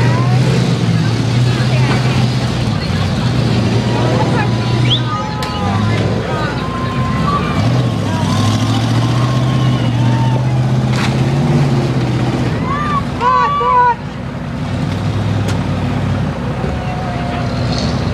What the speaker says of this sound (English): The 57 of Butch Lemire able to get that car refired as well.